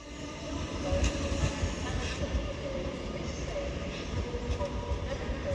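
A London Overground Class 710 electric train pulls into London Euston, its steady rumble and rolling wheel noise filling the platform at close range, with faint brake squeal and a few voices in the background.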